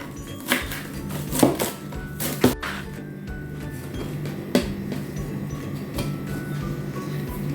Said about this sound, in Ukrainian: І додаємо сюди нашу зелень, петрушечку. Міленький ось так нарізаємо.